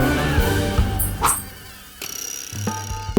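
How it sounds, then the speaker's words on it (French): Mosquitoes buzz close by during an outdoor fishing trip, a steady whining drone with several brief louder passes and clicks, heard alone without talk. "On devrait partir avant que les moustiques nous mangent"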